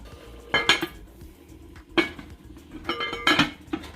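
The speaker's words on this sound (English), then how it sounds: "Here I'm gonna give it a quick stir and ensure that nothing is sticking to the bottom of the pot. And then I'm gonna place my cover on." A spoon stirs beef stew in a metal pot, giving a few clanks and scrapes, then the lid is set down with a bright metallic clink, all close up with no talking.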